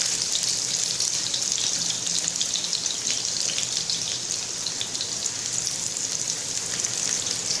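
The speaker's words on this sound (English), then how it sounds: "Once the oil heat up, toss in the sliced shallots." Sliced shallots fry in hot oil with a dense, even sizzle, close and continuous, with no voices over it.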